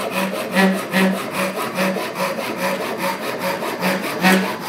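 A Gyokucho Japanese hand saw cuts through plywood in quick, even strokes. Each pull and push rasps loudly and close up, in a brisk regular rhythm of about three strokes per second.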